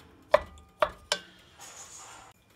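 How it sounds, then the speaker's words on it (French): Tomatoes are cut into small pieces with a spatula, giving three sharp, close chopping knocks about half a second apart, followed by a softer scraping rustle. "Puis avec une spatule, on va couper les tomates en petits bouts."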